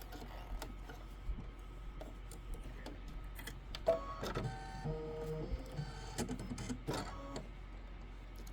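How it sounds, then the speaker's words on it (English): An embroidery machine stitches an appliqué quilt block, giving a steady mechanical whirring with rapid ticking and clicking close by, at a moderate level and with no talking. "Go ahead and hit start, and you've got 2 minutes of stitching."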